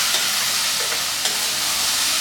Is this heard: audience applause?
no